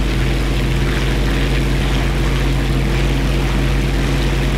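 A propeller airplane engine in War Thunder drones steadily and loudly throughout, a constant low hum with a broad rushing wash above it and no talking.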